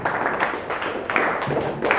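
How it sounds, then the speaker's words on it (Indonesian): A class applauds a student, brief dense clapping from many hands in a room, fairly loud and continuous with slight surges in rhythm. "boleh tepuk tangan untuk Mardika."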